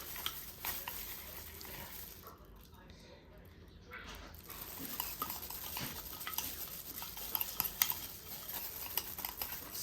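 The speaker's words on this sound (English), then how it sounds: "Let's put the sauce in." Sauce stirred into Chinese barbecue pork in a pan, with steady soft scraping and a gentle sizzle running throughout, fairly faint and close, while a person talks now and then over it.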